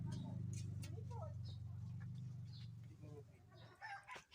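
Chickens crossbred from jungle fowl cluck and call close by in a farmyard, with a low steady hum underneath and scattered bird sounds, while someone talks over them.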